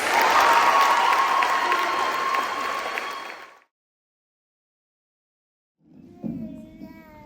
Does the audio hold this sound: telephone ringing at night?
no